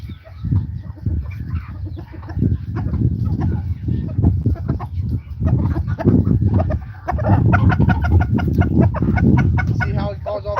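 A rooster clucks rapidly and repeatedly to call his hens over to food in a farmyard, loud and close, with bursts of chatter and faint hen sounds between the calls.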